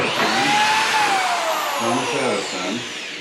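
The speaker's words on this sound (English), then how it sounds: "Don't push down hard on that drill." A power drill whines steadily into plywood while building a plywood cart, loud and close, its pitch sagging slightly as pressure changes, continuous for the full stretch.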